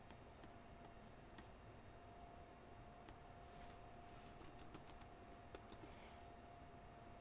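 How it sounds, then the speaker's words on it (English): Someone types on a computer keyboard during an online call, the keys clicking faintly and steadily in soft, irregular taps against a low hiss and a faint steady hum, with no talk. "I can hear you typing"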